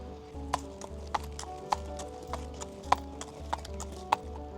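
Horses at a lakeside riding spot by a cave near Ipoh, Malaysia, clip-clop with sharp, evenly spaced hoof strikes about every half second over a steady low rumble, close and fairly loud.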